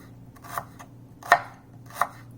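A knife chops garlic into small pieces on a cutting board, three distinct sharp strikes spaced irregularly, close and clear over a quiet room.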